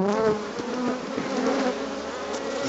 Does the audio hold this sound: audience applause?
no